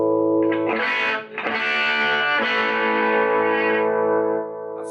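Overdriven electric guitar through a vintage Marshall amp on its high gain channel at volume 3, chords ringing loud and sustained with a short break near the middle, no talking.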